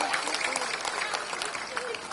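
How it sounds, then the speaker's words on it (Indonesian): Applause from a large audience at a campaign rally in Brebes, Central Java: dense, steady clapping that fills the clip at moderate volume, with crowd noise mixed in. "tepuk tangan buat Pak Zubat"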